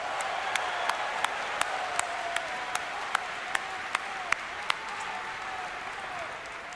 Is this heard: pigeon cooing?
no